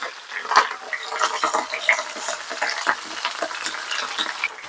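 Chopped onions fry in a hot pan for an Uzbek-style beef head and chickpea dish, a steady close sizzle broken by scraping stirs and clinks of the utensil, with no talking.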